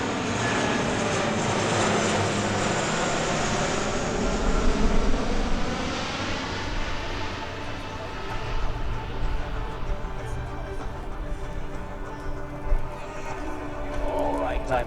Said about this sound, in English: Gear down, flaps are down. This thing is in perfect landing configuration. Look at how slow the C-130 Super Hercules can go.